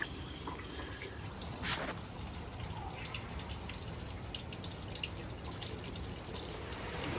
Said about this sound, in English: undo this and then all the coolant will come rushing out